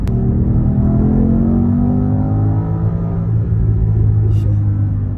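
A BMW XM accelerates hard, heard from inside the cabin as a loud, deep rumble whose pitch keeps rising, with speech over the engine.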